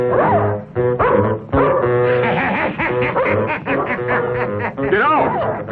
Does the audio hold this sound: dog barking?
yes